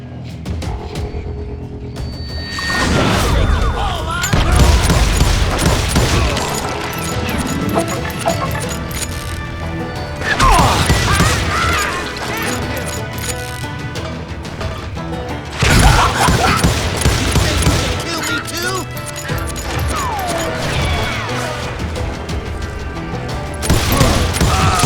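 Gunfire from hired shooters in Call of Juarez Gunslinger, a loud Western gunfight with repeated cracking shots and booms in clustered bursts over a music and effects bed.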